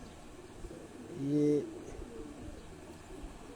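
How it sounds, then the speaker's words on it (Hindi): Domestic pigeons kept on a rooftop, one soft cooing call rising briefly in the middle, faint and close, with someone speaking quietly before it. "ये सा बाजीगर कबूतर है मेरे, बहुत पुराने और मशहूर कबूतर हैं।"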